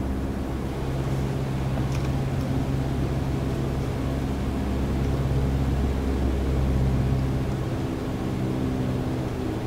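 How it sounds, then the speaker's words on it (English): A plane in Microsoft Flight Simulator flies its landing approach with a steady, unbroken engine drone and rumble. The sound is loud and even throughout and plays with no talk over it. "Make sure to keep the plane centered on approach"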